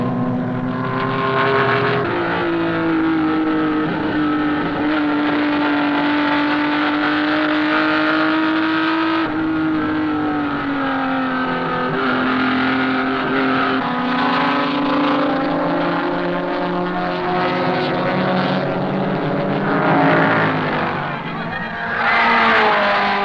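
Race cars at Watkins Glen circuit in New York, amateur drivers competing, engines droning loud and continuous with rising and falling pitch as cars accelerate and pass, a dense steady roar that persists throughout.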